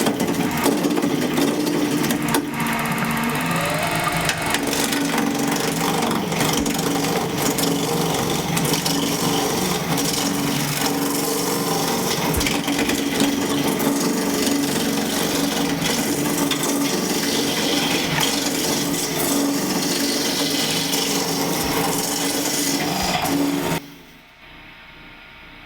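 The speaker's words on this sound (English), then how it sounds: "The first tool I'll use is a tool called a roughing gouge." A wood lathe spins a blank while a roughing gouge cuts it toward a cylinder, producing a loud, continuous scraping whir that runs without pause before cutting off abruptly near the end.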